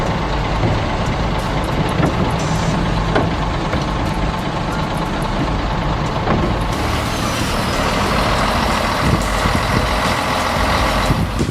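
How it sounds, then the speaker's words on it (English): Heavy machinery rumbles steadily as a bulldozer is loaded onto a truck, with a loud, continuous diesel engine drone and occasional clanks throughout, with no talking. "loading a bulldozer onto a truck can be a real headache"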